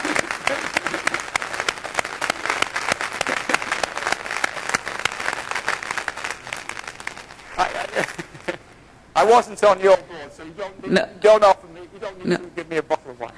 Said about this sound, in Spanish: Un aplauso para esta persona.